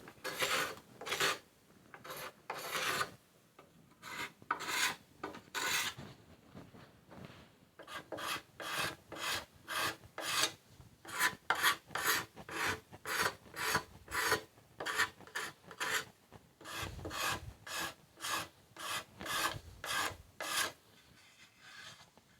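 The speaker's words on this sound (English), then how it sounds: "use a cabinet scraper. Just kind of work that off." Cabinet scraper drawn over wood to remove dried glue: a long run of rhythmic rasping strokes, close and fairly quiet, brief pauses early on, then steady back-and-forth scraping with no talk.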